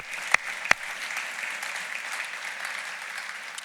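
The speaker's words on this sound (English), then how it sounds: "one more round of applause for Patti for being here." Audience applause at a business breakfast event fills the room steadily, with two sharp louder claps near the start standing out above the sustained, moderately distant clapping.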